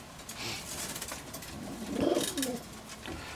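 Adult racing pigeons coo in a loft against a steady background hum, with one fuller, louder coo near the middle and no voices.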